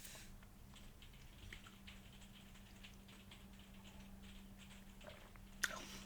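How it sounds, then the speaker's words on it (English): Steady patter of rain drumming on a conservatory roof, a dense continuous texture of small ticks at even loudness with a steady low hum beneath and one sharper knock near the end. "And yeah, it's raining."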